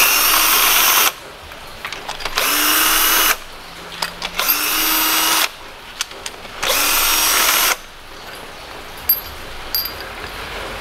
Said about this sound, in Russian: головка на 10, выкручиваю.